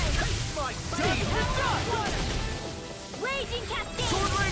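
Sword skill attacks in the Tales of Arise video game, with a rapid series of sharp crashing impacts and whooshes mixed with music and battle effects, while characters shout over the action.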